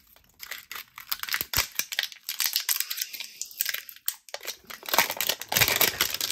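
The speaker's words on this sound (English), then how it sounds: "So let me cut this plastic. It's kind of got like a sealed plastic shell on it," A blade cuts and tears through a sealed plastic clamshell package in a close, irregular run of crackling, crinkling and scraping, with no talking.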